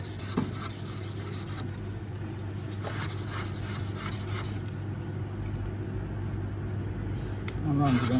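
Hand sanding of a metal wedding band with 1000 grit sandpaper, a continuous close rubbing scratch with slight back-and-forth variation and a steady low hum underneath, no voice over it.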